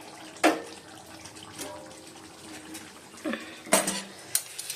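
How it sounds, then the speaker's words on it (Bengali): A wok and other dishes are washed in a home kitchen sink, giving quiet, sparse clinks and clatters of metal pots and utensils over a faint wash of running water. "একটা কড়াই মাজা হয়ে গেছে, কতগুলো বাসন ছিল সেগুলোও মেজে নিয়েছি।"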